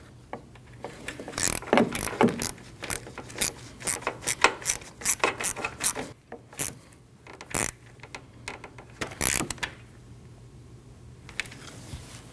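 A hand ratchet tightening a transmission line bracket screw on a 2013-2019 Ford Escape 1.5L, rapid clicking bursts in short repeated strokes, close and crisp, with brief pauses between runs.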